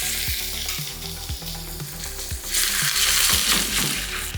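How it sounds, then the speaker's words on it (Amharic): Chicken frying in a pan with table butter and onions, a steady loud sizzle that swells louder halfway through, with a few knocks of utensils against the pan. "ከዛ ዶሮአችንን እንጨምራለን"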